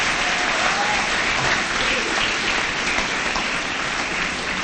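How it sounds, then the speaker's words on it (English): A school graduation audience applauds the teachers in dense, sustained clapping that fills the room evenly throughout, with some faint crowd murmur mixed in. "let's take a round of applause and give some props to your teachers"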